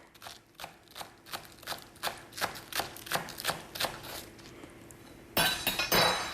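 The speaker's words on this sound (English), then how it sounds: "stir that, combine that." A mixture stirred and combined in a bowl makes a run of quick, regular clinks and scrapes, a little faster near the end, fairly close and moderately quiet.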